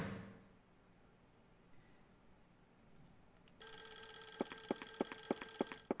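Telephone ringing in the Clock Tower: The First Fear video game, a sharp electronic bell that starts after a quiet stretch and repeats in quick regular bursts, alone with no voices.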